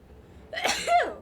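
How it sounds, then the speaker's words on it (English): A single sharp sneeze erupts close to the microphone, a quick intake followed by an explosive burst, with no talking. "I'm gonna go sneeze again"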